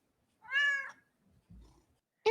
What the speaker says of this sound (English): Insert meow.